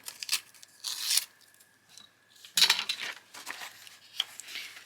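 Paper for a junk journal made from an old book is cut and handled in short bursts of crisp snipping and rustling, separated by quiet gaps, close by and with no voices.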